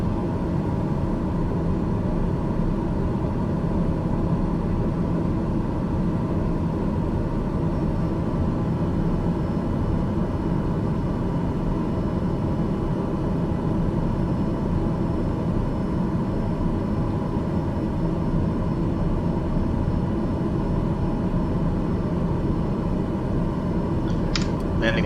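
Steady, loud airliner engine drone in Microsoft Flight Simulator 2020 on a flight from Monrovia to Lagos, holding an even hum without a break throughout.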